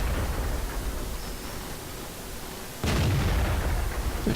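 A tank cannon fires in World of Tanks from a StuG III tank destroyer, a single sudden heavy boom partway through that breaks a steady rumbling engine drone and then leaves a louder roar.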